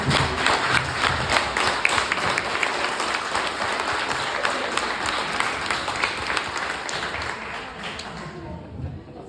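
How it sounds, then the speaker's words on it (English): A town hall audience in Newberry applauds teachers standing in the room, loud and crackling with many hands at once, staying thick for most of the stretch before thinning and fading out at the end. "So we give them a round of applause."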